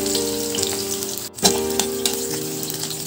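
Onions sizzle loudly in hot oil in a pan, a dense, close frying hiss with a brief dip and burst partway through.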